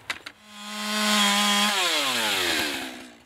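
Chainsaw on a sawmill trimming six inches off the checked end of a log, a steady droning idle that revs up into a loud sustained cutting whine and then winds down, no talk.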